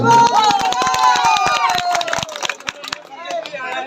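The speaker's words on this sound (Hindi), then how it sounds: "सर के लिए 2000 ताली हो जाए" An audience claps for a teacher at a Republic Day speech event, sharp crowded clapping bursts that run loud and continuous, fading a little toward the end, with a voice over them at the start.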